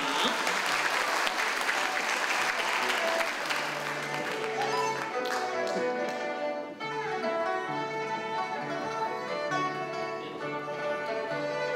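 An audience at the 22nd TECO Award ceremony applauds to welcome the chairman, with loud, dense clapping for several seconds that then thins out as tonal music takes over.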